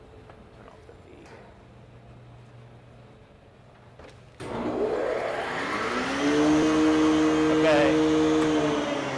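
A bakery grain mill running after the flour batch finishes, a loud whirring hum with steady tones that starts abruptly partway through, following a quieter room stretch where a voice briefly speaks.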